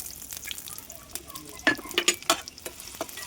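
Onions sizzling and frying in hot oil in a kadai for chicken sukka, a steady crackle with several sharper spoon-stirring clinks and scrapes near the middle, close and fairly quiet.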